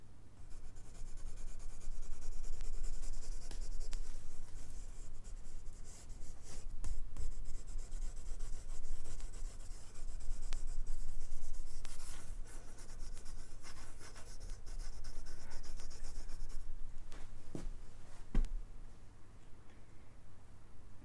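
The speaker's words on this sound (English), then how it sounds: "it's very great to watch you sketching so uninhibitedly, because she agonises over every pencil stroke" Pencil sketching on paper, a continuous close scratching and rubbing of strokes over about twenty seconds, with varying intensity, occasional sharper taps and a low background hum.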